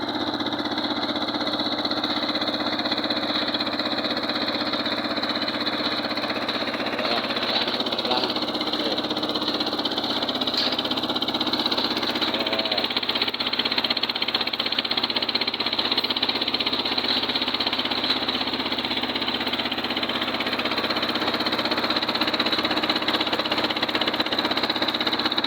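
A water well drilling machine's engine runs steadily while pumping, a continuous droning hum with a rhythmic mechanical chatter, close and unchanging throughout.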